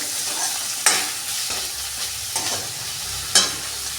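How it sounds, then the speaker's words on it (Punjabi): Onions fry in a pan for a Punjabi sukhi arbi dish, giving a steady soft sizzle while a spoon scrapes and clinks against the pan every second or so, with no speech. "ਇਹਨਾਂ ਨੂੰ ਥੋੜਾ ਜਿਹਾ ਭੁੰਨਣਾ ਪਿਆਜ਼ ਨੂੰ ਕਿ ਜਿਹੜੇ ਹਲਕੇ ਬਰਾਊਨ ਜਿਹੇ ਹੋ ਜਾਣ"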